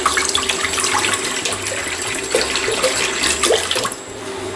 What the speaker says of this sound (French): on va commencer par y mettre de l'eau